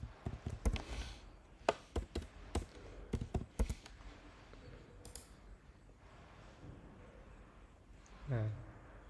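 Irregular clicks and taps, like keys struck on a computer keyboard, come in short bursts over a quiet room with faint background noise, then give way to near silence with a brief low hum near the end.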